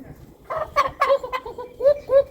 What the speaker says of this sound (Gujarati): પકડી લીધો કુકડો તે.